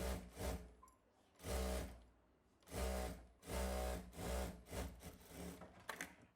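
A sewing machine stitches along the edge of frock cloth in close, loud bursts of rapid needle chatter, stopping and restarting several times as the fabric is guided along.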